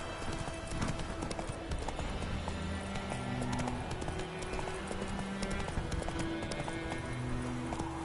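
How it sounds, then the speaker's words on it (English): Horse hooves gallop in The Witcher 3, a steady clip-clop rhythm running throughout over in-game ambience and music, with no speech over it. "Whoa there, Roach"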